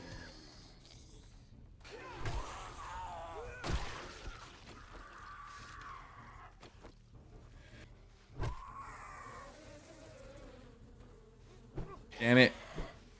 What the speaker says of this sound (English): I didn't even see those bees.